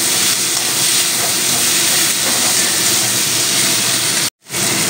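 Chopped tomato hits hot oil in a home-kitchen pan and sets off a loud, dense, hissing sizzle that holds steady for several seconds before cutting out abruptly near the end, with no talking.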